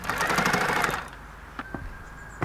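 A sewing machine runs steadily for about a second while stitching around the neckline of a men's shirt, then stops, leaving only light handling sounds.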